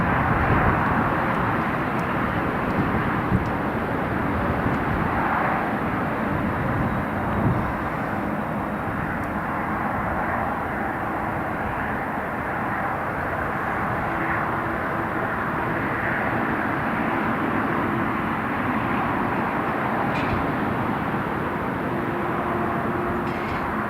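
A Lufthansa airliner landing at Newcastle International Airport gives a steady, broad jet roar that stays loud and even for the whole stretch, heard from some distance with no voices.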